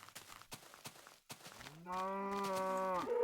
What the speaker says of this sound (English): There's some cows over there too.